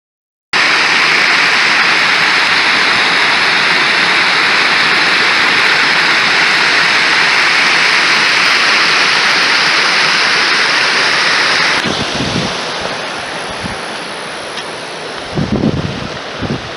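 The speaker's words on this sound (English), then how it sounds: "so I headed over to the waterfall." Steady broadband rush of a waterfall, loud and constant, with wind buffeting the microphone; the roar softens partway through and a few low thumps of handling appear near the end.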